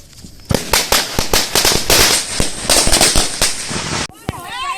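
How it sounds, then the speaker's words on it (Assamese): Diwali firecrackers burst in a rapid, loud string of sharp cracks and pops for about four seconds, then cut off, followed by a lone late bang. "এয়া এতিয়া আমাৰ মামাই ফটকা জ্বলাই আছে"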